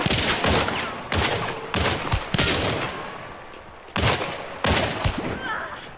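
Gunfire in the video game Hunt: Showdown, a rapid series of about eight loud shots in uneven rhythm, each sharp crack followed by a rolling echoing tail, close and dominant.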